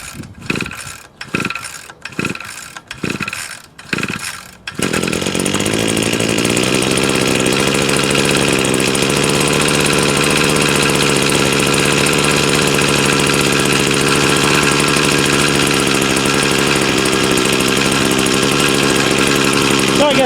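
A Badger WB26BCI 26cc weedwacker on stale fuel, pulled several times with the starter cord in quick rasping bursts, then catches and runs as a loud, steady, buzzing small two-stroke idle that continues close by.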